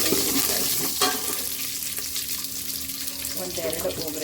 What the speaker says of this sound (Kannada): ಸ್ವಲ್ಪ ಬೆಳ್ಳುಳ್ಳಿ ಹೆಂಗೆ ಹಾಕಿದೆಯಾ ಚೆನ್ನಾಗಿ ಫ್ರೈ ಮಾಡ್ತೀವಲ್ಲ